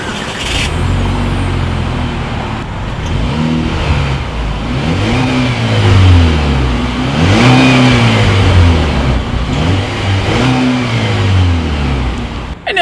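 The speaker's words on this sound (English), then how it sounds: "here is that exhaust clip" A 2018 Chevrolet Malibu engine revs up and down repeatedly through its dual exhaust outlets, loud and close, with deep exhaust roar rising and falling in several bursts.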